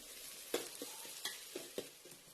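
Moth beans (matki) roasting in oil in a pan for Kolhapuri misal, with a handful of soft spoon scrapes and stirs in an uneven rhythm over a faint, quiet sizzle.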